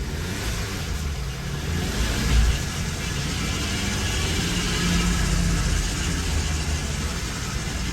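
Audi A3 8V with a DSG transmission running steadily while shifted through its gears, a continuous low engine hum and road rumble with a slight swell partway through, no voices.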